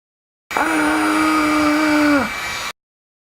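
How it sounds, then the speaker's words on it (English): A heat gun blows steadily on a Honda Goldwing engine case, a loud close whine and rushing hum that switches on abruptly, holds, dips in pitch near the end, then cuts off. "And then I'm going to heat it up further with this heat gun."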